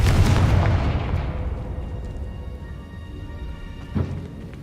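A Confringo spell explodes in the Hogwarts Legacy video game: a loud, booming blast at the start that rumbles and slowly fades, followed by a smaller pop near the end, with no speech.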